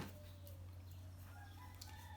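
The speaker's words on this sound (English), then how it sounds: "I'm sure you hear my background, the rooster, the birds, the chickens." A rooster crows faintly in the distance amid a quiet outdoor hum, with soft bird sounds and chickens around it, in a garden.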